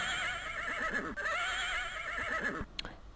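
Horse neighing in King's Quest II, a long wavering whinny with synthesized game tones, followed by a short sharp burst near the end.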